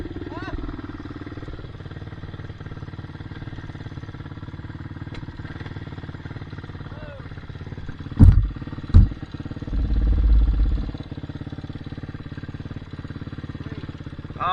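An off-road vehicle engine runs on the Hatfield-McCoy trails as a steady low hum under ongoing conversation, with a couple of sharp clunks and a brief louder rumble partway through.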